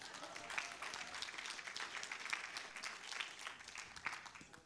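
A church congregation applauds during a sermon, a distant, fairly soft wash of clapping that continues evenly for a few seconds without voices.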